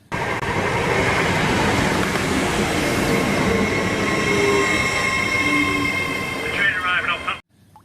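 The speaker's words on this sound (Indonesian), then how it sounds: "nih kereta api cepat" A fast toy train rumbles along steadily and loudly at close range, with a high whirring tone throughout, then stops abruptly near the end.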